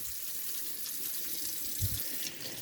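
Tap water runs steadily into a sink while a soapy acrylic paint brush is rinsed under it, a close, even hiss with a brief splashy disturbance near the end.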